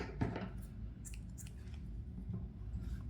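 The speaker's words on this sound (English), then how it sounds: "Cut the yarn." Scissors snip through yarn while crocheting a bag, a few soft, close crisp cuts scattered over a low background hum, with no talking.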